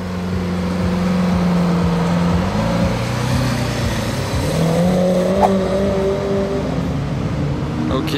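Three Audi RS6 cars drive by with a steady, loud engine roar and rising and falling tones as they accelerate, with faint voices in the background.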